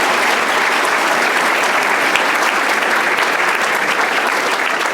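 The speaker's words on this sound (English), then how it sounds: "How about a big round of applause for that young lady?" Big, sustained round of applause from a large audience for a young female student at a City Colleges of Chicago event, dense and steady clapping at full volume throughout with no voices.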